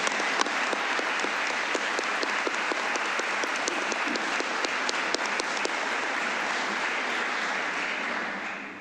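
An audience at a judge's retirement ceremony applauds steadily, a dense even wash of many hands clapping for about nine seconds, moderately loud and sustained before tapering slightly at the end.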